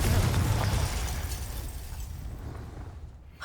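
A Confringo spell blast in Hogwarts Legacy, a loud booming burst with a rumbling low end that fades away over a few seconds, followed by a brief quiet.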